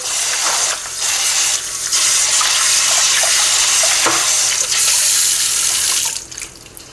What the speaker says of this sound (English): Kind of wash this guy out, rinse it so there's no soapy flavor in our gravy